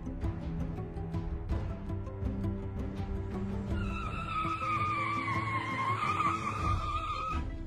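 A cartoon police car stolen by bandits skids through a getaway, with engine drone and a long, rising tire squeal in the second half, loud and continuous over an action soundtrack.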